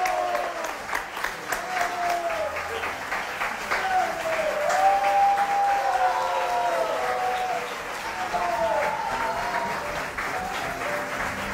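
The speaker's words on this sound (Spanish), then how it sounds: "pido un aplauso fuertísimo para ellos" Television studio audience applauds Miguelito Chato Barraza and Melcochita, sustained loud clapping and cheering that runs throughout while a voice talks and music plays beneath.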